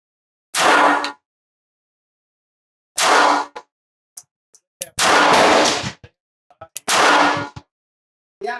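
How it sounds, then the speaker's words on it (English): Several sharp, loud pistol shots from an S&W Bodyguard 2.0 fired at small targets on a range, spaced irregularly with about a second or more between them, each a sudden crack with a short ringing tail against silence. "let's take some shots at our 2-inch challenge targets"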